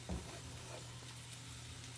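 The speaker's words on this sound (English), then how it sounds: "let me show you the perogies here. They're just boiling away." Store-bought perogies boiling away in a pot on the stove, giving a steady low bubbling hiss throughout, fairly quiet and with no talk over it.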